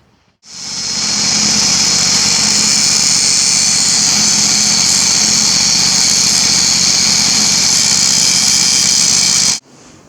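John Deere riding mower engine running steadily on cruise control with a wheel spinning, a loud, even high-pitched drone that starts abruptly and holds for about nine seconds before cutting off.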